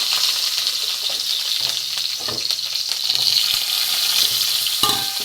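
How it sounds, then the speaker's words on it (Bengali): Pumpkin pieces fry in mustard oil in a wok, giving a steady, close sizzle and crackle that continues through the whole stretch, with a few brief stirring clicks and no voices. "কড়া বসিয়ে দিয়েছি, সর্ষে তেল দিয়ে দিয়েছি। এখানে আমার কুমড়ো কাটা আছে, কুমড়োগুলো একটু ভেজে নেব।"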